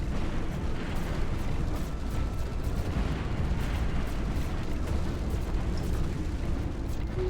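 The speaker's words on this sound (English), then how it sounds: "Ooh, that's a lot of withering firepower." Space battle fire in Stellaris, a strategy game: a dense, continuous roar of overlapping weapon blasts and rumbling impacts at constant loudness, with no individual shots standing out and no talk.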